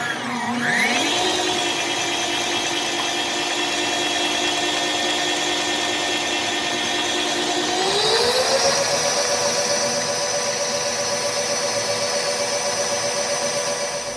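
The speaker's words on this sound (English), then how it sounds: "set this to a number 4 and mix it all up before I add the chocolate chips" Stand mixer set to speed 4 blending gluten-free banana bread batter, a continuous close motor whine that steps up in pitch about halfway through.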